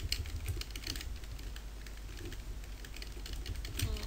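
Computer keyboard mashed rapidly to fire in an NES game played on an emulator, a quick, quiet, irregular patter of key clicks throughout.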